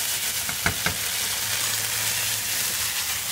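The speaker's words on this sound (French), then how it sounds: "On mélange bien." Veal kidneys sauté in a pan as mustard is stirred in, a steady hiss of frying with a couple of sharp spoon scrapes against the pan near the start.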